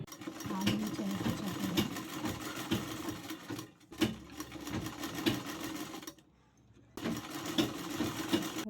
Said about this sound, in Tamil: ஒரு 1/2 இன்ச் அளவுக்கு அப்படியே ஸ்ட்ரெயிட்டாக தையல் போட போகிறோம்